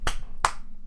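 Two sharp hand claps about a third of a second apart, close and crisp, followed by quiet.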